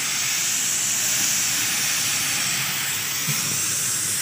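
Rice boiling in a pot on a coal stove, giving a loud, continuous hiss of steam and bubbling that stays even from start to finish.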